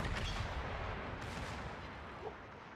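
Battleship secondary guns firing in a naval combat video game with German battleships, a faint distant rumble of repeated gunfire blending into a steady wash of battle noise, with no voices.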